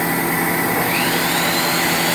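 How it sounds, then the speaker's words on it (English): A TC650E CNC lathe runs while making wooden bats, giving a loud, steady, broadband whirring roar with a high whine that holds without a break. "This is the TC650E CNC lathe."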